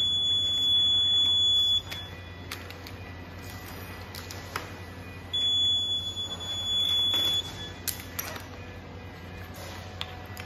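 A food metal detector on a conveyor line sounds its alarm after detecting a metal test ball, giving steady electronic beeping tones that start and stop in bursts over a constant machine hum.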